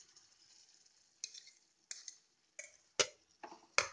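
Boiled mushrooms stirred in a hot frying pan: a quiet sizzle broken by several sharp scraping clinks of a spoon, spaced irregularly and close up.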